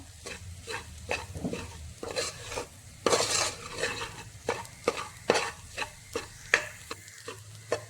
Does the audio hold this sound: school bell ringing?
no